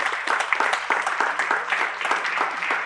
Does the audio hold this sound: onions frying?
no